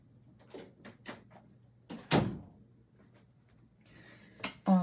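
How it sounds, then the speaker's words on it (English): An office door being closed, with a few light knocks and shuffles leading to one firm thud of the door shutting, then a short rattle at the end in a quiet room. "Excuse me while I stand up to close the door to my office."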